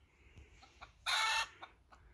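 A Sussex hen clucks outdoors in a backyard flock, several soft clucks followed by one louder, harsher squawk in the middle and a few more quiet clucks after.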